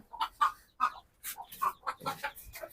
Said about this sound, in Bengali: এই যে এই কালো সাদা যে মুরগিটা দেখা যাচ্ছে,